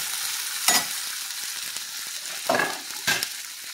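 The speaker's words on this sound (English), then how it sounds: "So we're going to throw some butter in here. Get those stirred up." Diced potatoes stirred with butter in a hot pan, a constant loud sizzle broken by three scraping sweeps of a utensil across the pan, close up, with no talking.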